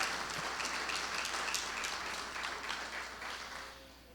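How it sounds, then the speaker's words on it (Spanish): Church congregation at a Bible study applauding, a faint, dense wash of many hands clapping at a distance that slowly fades away, with no talk over it. "Yo no sé cuánto le dan un aplauso al Señor por eso."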